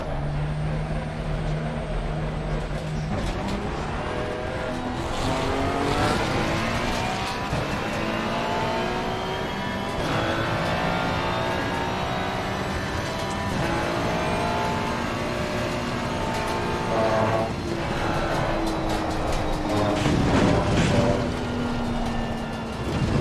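A Porsche race car in the Assetto Corsa Competizione racing game, engine droning and climbing through revs with rising and falling tones, gear shifts and occasional tire noise, loud and continuous throughout.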